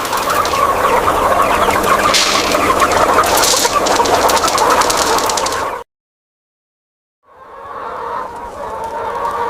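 A large flock of broiler chickens raised in a crowded commercial shed for KFC, clucking steadily as a dense, loud chorus that cuts out briefly to silence before resuming.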